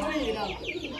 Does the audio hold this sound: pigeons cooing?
yes